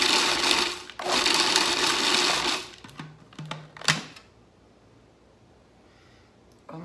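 A food processor pulses sun-dried tomatoes in short bursts. A long loud whir gives way to a couple of quick pulses, then quiet rattling.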